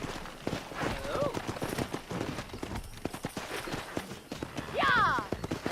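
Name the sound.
horses in Red Dead Redemption video game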